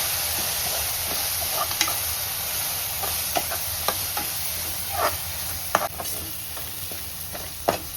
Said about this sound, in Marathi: आणि आता हे छान असं मस्त परतून घ्यायचं।